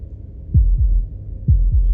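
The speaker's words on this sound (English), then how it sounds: "That was the sound of a heartbeat" Heartbeat in the video game Slay the Princess: deep, muffled thumps in lub-dub pairs, two double beats spaced about a second apart, close and heavy over a low hum.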